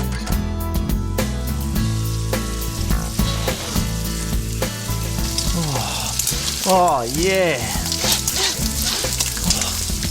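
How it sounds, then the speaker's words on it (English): Bacon sizzles and crackles in a frying pan with a steady, close hiss throughout, while strong low tones and a sliding voice-like sound rise over it; a brief spoken remark comes in. "The smell of the bacon sizzling in the pan will easily be enough to tempt you from your pillow"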